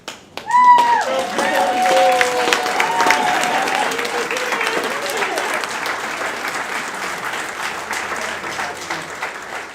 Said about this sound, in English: Can we stand up and give these graduates another round of applause?